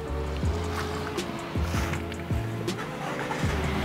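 A 2016 Toyota Alphard engine cranks and starts, followed by a low, steady idle with several repeated engine sweeps close by.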